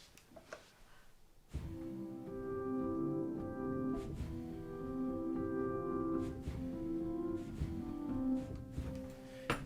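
Native Instruments Una Corda piano played with expanded dynamic range: a single soft note, then from about 1.5 s a sustained flowing passage of layered chords and melody notes with a steady mid-level loudness, with no voice over it.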